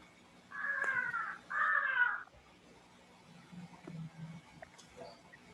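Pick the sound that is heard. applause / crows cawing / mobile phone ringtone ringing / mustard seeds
crows cawing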